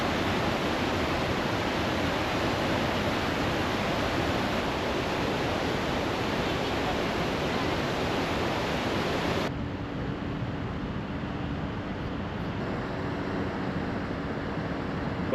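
Victoria Falls on the Zambezi River roars as a dense, constant wash of falling water, loud and steady throughout, with the roar becoming slightly duller and more muffled in the last third.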